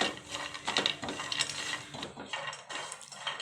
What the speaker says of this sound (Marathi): छान आपल्याला हे तुपामध्ये भाजून घ्यायचे आहे काजू आणि बदाम हलकंसं भाजायचं आहे